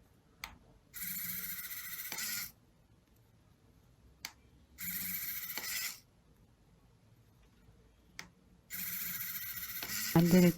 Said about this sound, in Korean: 이 소리는 필라멘트를 미는 모터 소리예요.